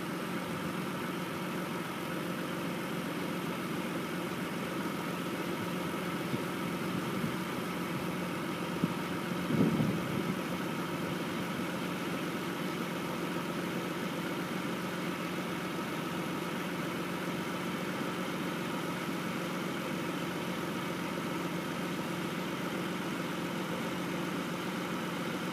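A 2002 Chrysler Sebring with the 3.0 engine idles steadily, a low, even hum that holds at a constant level throughout with no talking.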